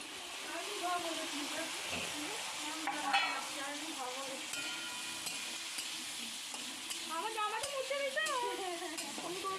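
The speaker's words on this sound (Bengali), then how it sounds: "এখানে ক্যাপসিকাম এবং পেঁয়াজগুলোকে ভালো করে ভেজে নেওয়া হবে।" Capsicum and onions fry in a pan with ginger-garlic paste, cumin and chilli powder for Bengali chilli chicken, a steady sizzle with scraping stir strokes and a voice faintly in the background.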